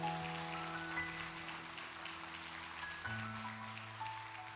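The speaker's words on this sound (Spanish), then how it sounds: "Un aplauso al Señor." Congregation applauding in a church service, a steady continuous patter of clapping heard over sustained organ or keyboard chords that shift pitch partway through, moderately loud throughout.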